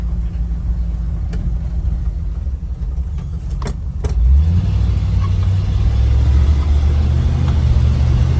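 A 1973 Ford Bronco engine rumbles low and then revs up as it accelerates, the pitch climbing after firm shifts from first to second to third, heard from inside the cab.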